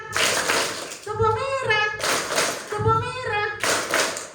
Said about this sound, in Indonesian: Tepuk merah tepuknya 2 kali.